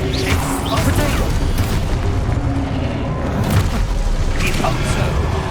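Explosive spell blasts in Hogwarts Legacy gameplay, a loud, continuous barrage of booming impacts and rumbling detonations with crackling debris, dense and sustained throughout without pause.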